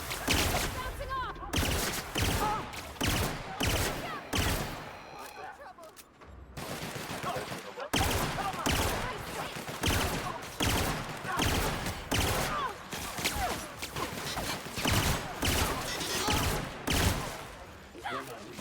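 Pistol gunfire in the video game The Outer Worlds, a long run of close, loud rapid shots that keeps up almost without break, with a brief lull partway through.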